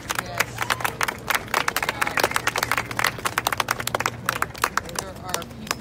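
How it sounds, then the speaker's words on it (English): Applause at an outdoor animal rights vigil outside a pig slaughterhouse near downtown Los Angeles: scattered hand claps from a gathered crowd mixed with murmuring voices and street bustle, a steady low hum running beneath. "there are applause for Amy Jean Davis"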